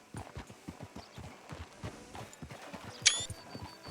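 Horse hooves in Red Dead Redemption 2 clop at a steady walking rhythm throughout, close and moderately loud, with a brief sharp bright accent near the end.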